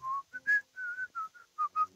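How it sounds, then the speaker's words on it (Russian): A single person whistles a short melody of clear, separate notes, some held and some clipped, close and alone against a quiet background. "на котором он насвистывает мелодию"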